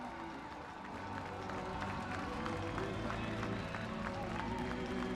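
A hockey arena crowd rises to its feet, cheering and applauding a hometown hero being honored, a steady, dense roar of clapping and voices that swells slightly and holds throughout.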